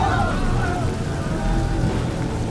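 Rain falls steadily with a dense hiss, mixed with low rumbling and tonal background sounds.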